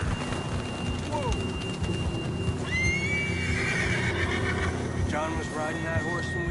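Horse whinnying in Red Dead Redemption 2, with one long neigh near the middle and a shorter trailing whinny later, over a dense bed of game ambience and rumbling background.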